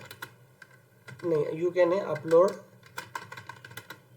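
Computer keys are tapped in quick, uneven bursts of light clicks, close by, while a voice talks over the middle stretch.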